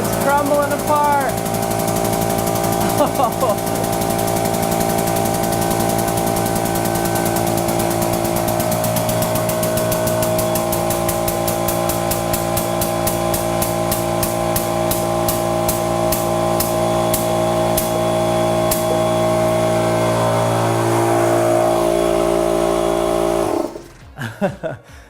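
Hydraulic press bearing down on an aluminium ball, a steady loud mechanical drone with a rising whine that stops abruptly near the end, followed by a few brief thuds.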